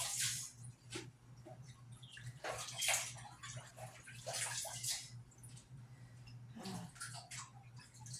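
Water sloshes and drains from a kitchen sink after collard greens are washed, with gurgling, splashing bursts and a steady low hum underneath, fairly close and moderately quiet.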